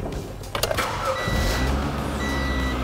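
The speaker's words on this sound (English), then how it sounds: "Start it up and let it circulate." Car engine cranking and catching after an oil change, a short starter whir then a steady close idle hum, with no talk.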